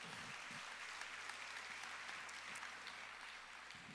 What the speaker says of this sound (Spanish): Le dan un aplauso al Señor si lo creen.